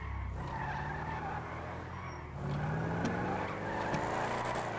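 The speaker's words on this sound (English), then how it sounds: "He saw me drift out onto the main road." Tires skidding as a car drifts in a police video game, a faint, steady engine drone with a sustained screech that swells midway, distant and low in level, with no voices.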